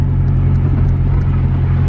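A Honda Civic AWD cruising downhill in fourth gear at about 27 mph, its engine giving a steady, loud low drone with constant road rumble and no gear changes.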